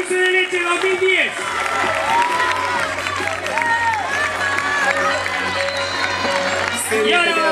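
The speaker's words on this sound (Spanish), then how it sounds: "¡Fuerte ese aplauso para la reina del dulce de leche 2010!" Crowd applause and cheering at the coronation of the Dulce de Leche queen 2010 in Cañuelas, loud and continuous, with shouts and whoops rising over the clapping and voices mixed throughout.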